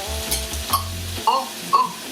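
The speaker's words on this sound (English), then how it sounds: "I'm just gonna scrape him out in the pot." Food sizzles and crackles in a hot pot, with scraping and stirring clatter up close, a few sharp metallic knocks over a low steady hum.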